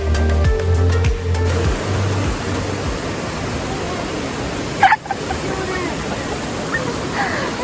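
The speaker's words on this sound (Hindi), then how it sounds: "आई लव ये रिवर की जो आवाज़ आ रही होती है ना, आसपास ग्रीनरी, रिवर की आवाज़।" A fast-flowing river near Tiger Falls in Chakrata rushes with a loud, constant roar of water, and a voice is heard briefly near the start over the steady flow.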